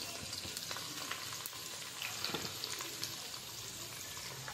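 Onion, chilli, ginger, crushed garlic and curry leaves sauté in oil for an anchovy fish curry, a soft steady frying sizzle with small pops and stirring scrapes, fairly quiet and close, no speech.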